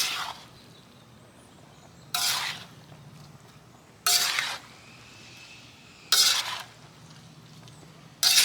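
Haluski, cabbage and noodles, stirred in a wok: four evenly spaced bursts of scraping and clattering, roughly every two seconds, separated by a quiet background sizzle.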